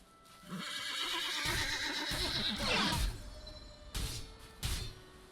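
A loud, drawn-out horse neigh in a video game rings out over hooves clip-clopping, then a few heavy hoofbeats land as the neigh trails away.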